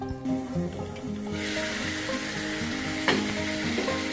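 Spice paste sizzles and fries in a pan for a fish kofta curry, a continuous crackling hiss that swells after a moment and holds steady, with faint stirring scrapes and no talk.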